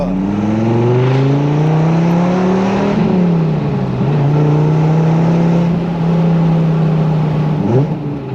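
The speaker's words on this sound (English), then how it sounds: "that slow battery was turning over the engine of my Dodge Viper" A Dodge Viper engine, started at a car meet, roars and revs with a sustained low rumble, rising and dipping in pitch, loud and close, with no one speaking.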